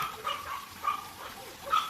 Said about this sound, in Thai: แล้วทำไมหมามันเห่ากันอย่างเงี้ย